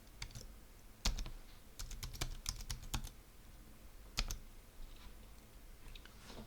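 Typing on a computer keyboard while filling in an email address and password on a PC, with bursts of quick close key clicks separated by short pauses, over a quiet room background.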